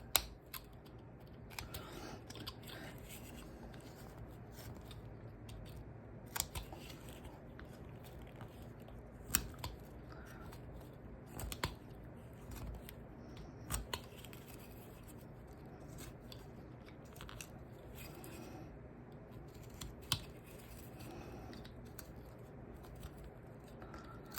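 A carving knife makes stop cuts into wood beside a carved face's jaw and hairline, a steady series of small, quiet scraping and clicking cuts close up against a faint background hiss.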